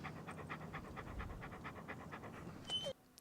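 A dog pants rapidly and rhythmically close by in a film scene, quick breathy puffs running steadily before stopping sharply near the end, followed by a few faint clicks.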